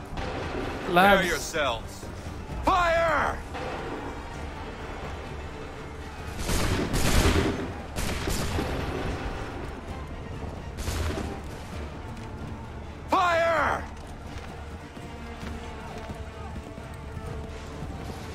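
Musket line firing a volley in Assassin's Creed 3 on PC, with several sharp broadband gunfire bursts spread across the scene amid battlefield noise, galloping hooves and someone talking over the action.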